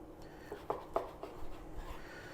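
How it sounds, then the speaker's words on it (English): A knife slices a firm, set egg-white loaf into chunks in a home kitchen, giving a few soft, close cutting taps and squishes in quick succession with no talking. "And then we're gonna cut it up into chunks here."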